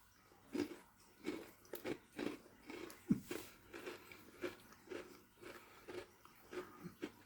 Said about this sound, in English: You definitely get the oat cookie crunch.